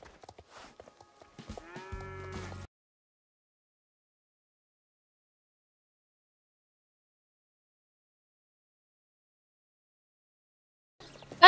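Cows in the video game Star Stable give one short, low mooing call near the start. It is followed by a long stretch of silence and a brief burst of game sound at the end.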